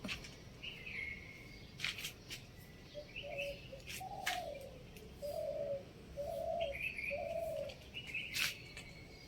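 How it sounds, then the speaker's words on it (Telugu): Morning birdsong around six o'clock in a rose garden: a dove repeats its low cooing notes as smaller birds chirp in short bursts around it, outdoors and moderately near. "బర్డ్స్ సౌండ్ చూడండి ఎంత చక్కగా వస్తుందో మార్నింగ్ టైం"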